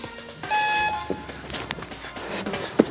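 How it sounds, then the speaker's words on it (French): A home workout interval timer gives one clear, steady electronic beep lasting about half a second, followed by faint room noise and a soft thump. "on a entendu le bip"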